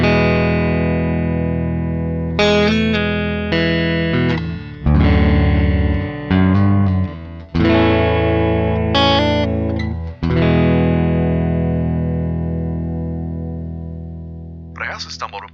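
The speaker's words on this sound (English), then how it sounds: "The standard blonde tweed style settings produce a very nice, smooth, but slightly crunchy sound that I'll probably use often." Electric guitar played through pedals set to a blonde tweed style tone, smooth but slightly crunchy: loud strummed chords and single notes with decaying sustain, ringing out near and alone.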